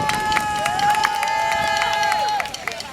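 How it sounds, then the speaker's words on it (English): An outdoor audience at a Chandler Park revitalization event in Detroit claps and cheers, a crowd noise mixed with sustained whistle-like tones and scattered voices. "Round of applause, please."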